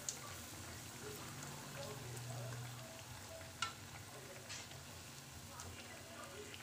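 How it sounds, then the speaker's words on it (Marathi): Aloo bread patties fry in hot oil with a quiet, steady sizzle and soft crackle, occasional faint pops and a clink of a utensil over the low hiss. "छान सोनेरी कलर येईपर्यंत याला छान फ्राय करून घ्यायचं आहे."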